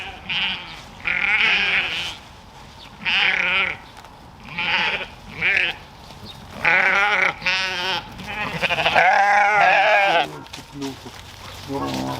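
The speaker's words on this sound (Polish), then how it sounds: "Najmądrzejszą owcą, która e, w tym sadzie się wypasa, jest Tekla" Sheep graze in an orchard and bleat close by in repeated loud calls, several overlapping, broken by short pauses.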